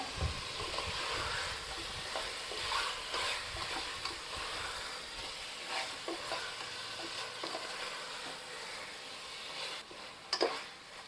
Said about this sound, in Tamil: ஒரு மூணு நிமிஷம் நம்ம நல்லா கிண்டிட்டோம் எல்லா சைடும் நல்லா ப்ரௌன் ஆயிடுச்சு